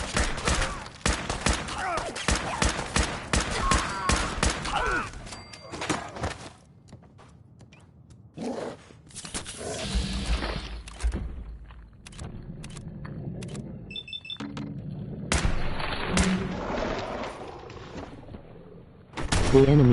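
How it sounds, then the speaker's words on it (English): Artillery barrage mixed with rapid gunfire in a game, dense crackling volleys and booms that come in waves, thinning in the middle before swelling again, loud and close. "Wall of artillery."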